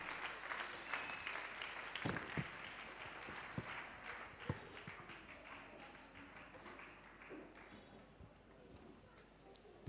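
Congregation clapping at a church Christmas carol service, a fairly quiet, diffuse patter of hands with a few sharper claps standing out, continuing steadily under a murmur of voices.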